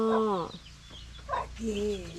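A chicken near a hen's nesting spot at a forest home makes a few loud, close clucks and drawn-out calls, with short pauses between them.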